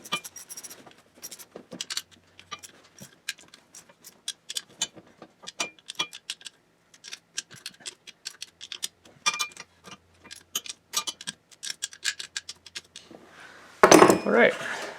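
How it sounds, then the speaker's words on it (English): Metal bolts being tightened on the side cover of a kids ATV with a centrifugal clutch, heard as a close series of sharp clicks, taps and tool clinks, ending in a brief louder rattling burst. "Just gotta tighten these bolts up"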